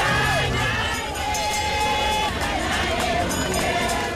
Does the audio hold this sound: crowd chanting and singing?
yes